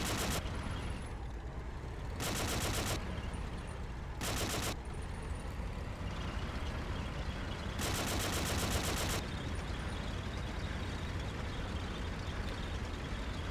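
Bursts of rapid gunfire from the World War II video game Forgotten Hope Secret Weapon crackle over a dense, constant battle din, with several sharp automatic volleys standing out from the noise.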